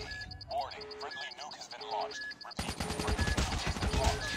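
KN-44 assault rifle fire in Call of Duty Mobile: after a stretch of game voice and beeping UI tones, a dense, loud burst of rapid automatic gunfire takes over the second half, continuous and close.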